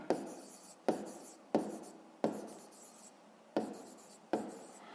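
A pen writes out the perimeter answer to a fifth-grade math exercise by hand. Six or so short, scratchy strokes come at a steady rhythm, close and alone.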